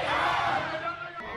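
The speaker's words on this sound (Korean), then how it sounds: "셔츠 소매를 접어 올린 채 환호에 화답합니다." Dense crowd cheering and shouting at a Thai election rally for the Move Forward Party leader, a loud, continuous roar with raised yelling voices that eases slightly toward the end.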